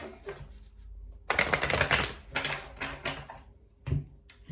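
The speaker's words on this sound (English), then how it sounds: "Okay, we'll do one last shuffle." A deck of tarot cards is shuffled, giving a burst of quick riffling flutter that tapers into softer shuffles and a few final taps, close and clear.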